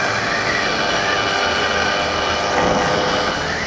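Derbi Variant moped engine running steadily after an engine swap, a continuous buzzing drone with a slight rise in pitch partway through, close and fairly loud with no talk.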